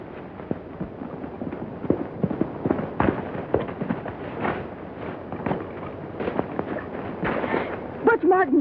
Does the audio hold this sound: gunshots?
yes